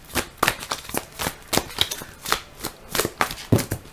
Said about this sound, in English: It's a little harder to shuffle.